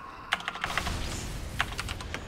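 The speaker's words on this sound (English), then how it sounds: "my keyboard is loud as hell" Fast, clattering keystrokes on a loud computer keyboard during a Team Fortress 2 match, typed in two close bursts with sharp individual clicks up close and no speech.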